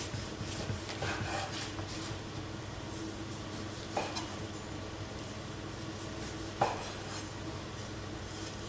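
A knife saws the crust off slices of bread with a steady, quiet rasping, broken by a few sharper strokes over a low background hum.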